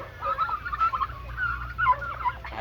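Startled farmyard chickens, unsettled by people nearby, squawking and calling in a busy run of overlapping cries over a steady low background hum.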